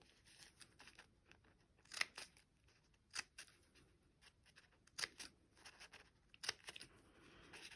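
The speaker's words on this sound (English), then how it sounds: "If you don't feel comfortable using scissors, that's okay." Scissors snip through paper in a series of sharp, crisp cuts spaced a second or so apart, close and quiet, with no voices.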